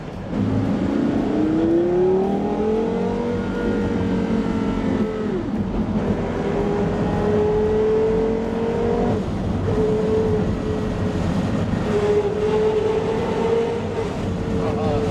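Porsche Carrera GT engine revving in traffic, a steady loud drone whose pitch climbs and falls through several sweeps, with low voices faintly underneath.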